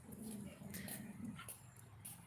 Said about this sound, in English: Cute puppy, by the way.